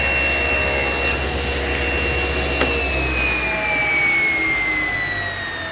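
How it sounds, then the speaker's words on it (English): A table saw cuts through a board, its loud steady motor whine and blade tone sliding slowly downward under load, close and continuous with no voices. "We've got a table saw."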